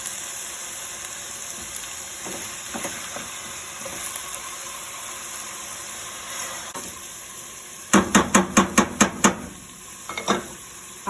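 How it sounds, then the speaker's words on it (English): Lean ground beef sizzles steadily in a hot pan while it is broken apart and stirred, with a quick series of sharp scraping taps from the utensil near the end and no speech. "I'm separating the meat because I want it to cook through."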